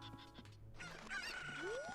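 Chickens in New World cluck and squawk in a brief, quiet burst of fowl calls, with a rising squawk toward the end, heard alone without speech.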